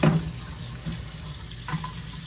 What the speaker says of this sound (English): So, okay, so you turn on the water.